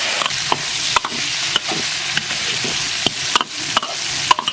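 Pork belly stir-fried in a wok with dark soy sauce, scallion, ginger and dried chili, giving a steady close sizzle broken by sharp scraping clicks of a spatula against the pan at irregular intervals.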